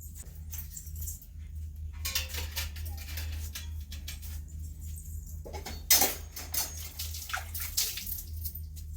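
Water runs and splashes into household containers for drinking and bathroom use, a steady nearby gush punctuated by clinks, knocks and brief louder splashes.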